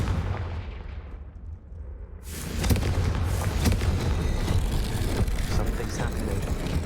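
Confringo blasting-spell explosions in the Hogwarts Legacy video game on Xbox, a quiet rumble that breaks into a loud, booming burst of blasts and crackling debris that carries on heavily to the end.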